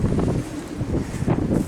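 Gusty wind blowing behind a gate fence during high winds, a steady broadband rush with low rumbling buffets rising and falling close to the microphone, with no voices.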